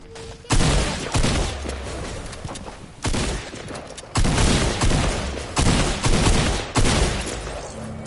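Rapid bursts of gunfire from the flag gun in Apex, several loud volleys in quick succession with short gaps between them, close and sharp.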